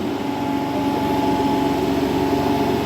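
Electric motor driving an alternator in a slip test bench setup runs at steady speed, giving a loud continuous hum with a clear tonal whine and no pauses.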